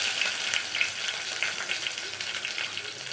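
Mustard seeds, onion and green chili fry for oats upma in a continuous dense, crackling sizzle with small pops, steady and close with no talking.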